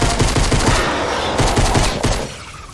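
Rapid bursts of assault rifle fire from a video game, a dense chattering stream of close, loud shots for nearly three seconds before trailing off, with no voice over it.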